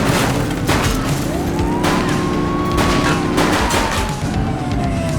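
Heavy, continuous gunfire from a vehicle rattles in a police video game, dense and loud throughout, with a siren rising and falling beneath the shots.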